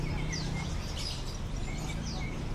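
Birds at an animal market in Bali chirp and tweet in short, scattered calls over a busy low background hum.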